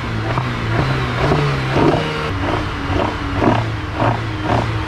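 A modified car engine with a tuned exhaust revs repeatedly in loud, rhythmic bursts, the rough growl rising and falling several times close to the microphone with no one speaking.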